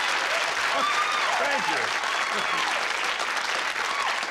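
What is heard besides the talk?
audience applause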